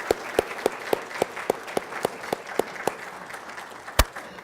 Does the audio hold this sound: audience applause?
yes